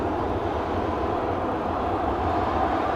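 A jet airliner engine at Amsterdam Schiphol Airport gives a steady low rumbling growl with broad roar, loud and unbroken for about three seconds, with no voices.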